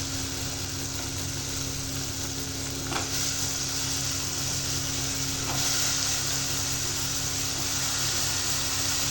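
Brinjal pieces frying in a pan, a continuous dense sizzle and crackle at an even level, with a faint low hum underneath.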